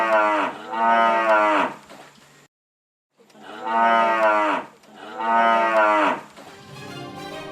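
Gyr dairy cows moo in long, loud, drawn-out calls, three separate lowing bellows with a short silent gap between the first and second, close and unaccompanied by talk.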